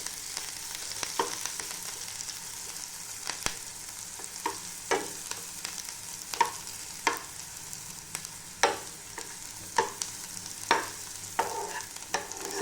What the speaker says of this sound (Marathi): कांदा चांगला लालसर परतून घ्यायचा.